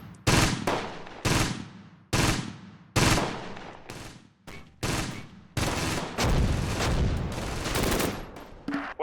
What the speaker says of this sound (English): Okay, see, my mortars are landing.